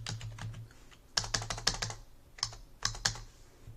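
Quick bursts of key clicks on a computer keyboard while entering a median formula into an Excel spreadsheet, arriving in short clustered runs separated by brief pauses, close and clear over a low steady hum.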